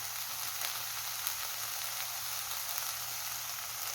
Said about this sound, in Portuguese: eu já vou colocar os tomates para dourar junto